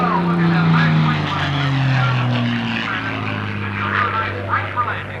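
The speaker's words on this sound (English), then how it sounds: "And with the gear down now on the North American P-51 Mustang" A North American P-51 Mustang comes in to land with its gear down at a 1987 Confederate Air Force airshow in Harlingen, its propeller engine droning loud and steady while a commentator talks over it.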